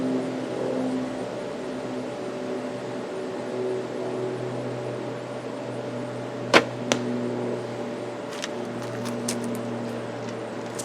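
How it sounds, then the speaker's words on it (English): A traditional bow, a Sarrels bow drawn at about 65 pounds, looses an arrow into a target bag, giving one soft, sharp release and a quick thump about midway through, then a few faint ticks over steady background hum. "this is a really quiet bow"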